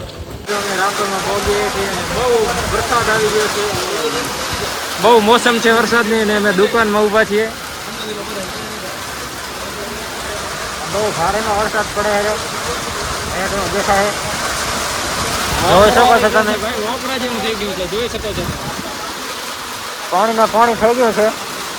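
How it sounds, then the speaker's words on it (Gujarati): Heavy rain falls steadily in Rapar, a continuous broadband wash that runs through the whole stretch while people talk intermittently over it. "રાપરમાં વરસાદ ચાલુ છે અત્યારે હમણાં"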